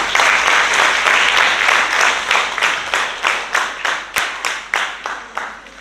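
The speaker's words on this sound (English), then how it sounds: "I say, give them a round of applause." A crowd at a primary school graduation ceremony applauds, at first dense and loud, then thinning into slower rhythmic clapping that fades toward the end.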